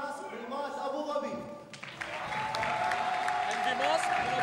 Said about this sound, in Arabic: تشجيع من الجمهور